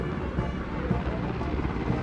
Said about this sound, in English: are Mi-17 V5 helicopters of the 155 helicopter unit.